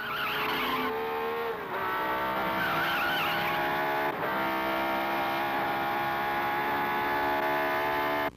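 A race car roars past at speed, its engine a sustained, loud drone as the tires squeal and skid, with no voices.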